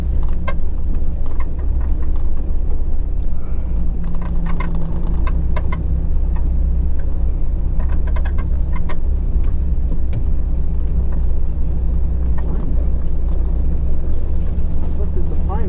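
Car driving along a road, with steady engine and road rumble throughout and occasional faint clicks and knocks inside the cabin; voices murmur faintly in the background.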